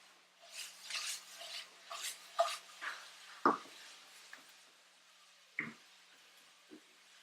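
Onions stirred in a pan over medium-low heat, a few scattered scraping strokes and utensil knocks against the pan, close but faint, with quiet gaps between them and no talking.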